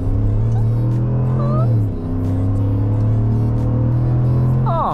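A Ram 1500 pickup with the 3.0L Hurricane twin-turbo inline-six pulls hard while towing a heavy load, its loud, close engine drone holding steady and then shifting pitch as it accelerates, with a voice briefly over it.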